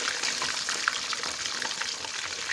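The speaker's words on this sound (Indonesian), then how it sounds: "Jadi ini semuanya aku goreng semua ikan pari-pari yang jumlahnya tadi 4 ekor" Four stingray fish frying together in a pan of hot oil, giving a dense, steady crackling sizzle that stays loud and close throughout with no voices.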